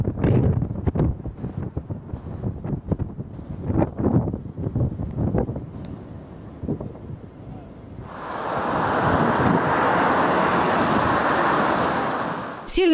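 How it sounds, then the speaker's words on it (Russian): Strong squall winds gusting through a city, first a broken roaring rumble of buffeting and rattling, then a sustained loud hissing roar of wind noise that swells and eases toward the end. "Прошелся шквалистый ветер и по столице."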